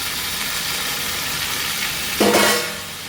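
Fried vegetables for lau shukto, a Bengali bottle gourd dish, tipped into a hot pan, with a steady low sizzle that swells into a louder burst near the end as the vegetables land.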